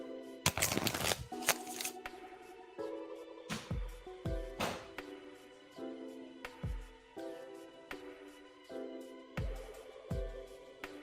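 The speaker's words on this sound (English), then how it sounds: "I'm shuffling for you now" Tarot cards shuffled by hand at close range, giving repeated riffling bursts and soft slaps in an irregular rhythm, with a faint tonal hum running underneath and no talking.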